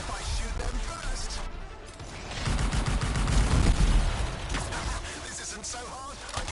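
Rapid bursts of sci-fi gunfire from a mech-suit shooter game blaze through nearly the whole stretch, loud and dense with crashing impacts, swelling in the middle before easing slightly.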